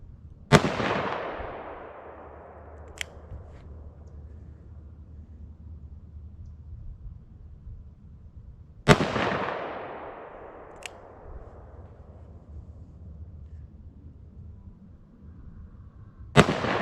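A .45 Colt revolver fires hard cast 260 grain semi-wadcutter loads over H110 powder, three loud sharp shots spaced several seconds apart outdoors, each followed by a long fading echo and a faint distant report.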